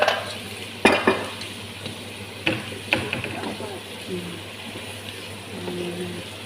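A spoon stirs shrimp biryani in a pot, with sharp scraping clinks against the pan over a faint ongoing sizzle, several knocks early then softer stirring.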